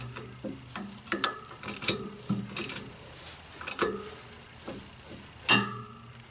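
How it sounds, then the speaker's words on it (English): A ratchet tightens a nut on a John Deere 4105 tractor, producing close, quiet bursts of clicking pawl strokes with short pauses between pulls and a louder knock near the end. "Make sure your excuse me, your ratchet is tied on straight on the nut"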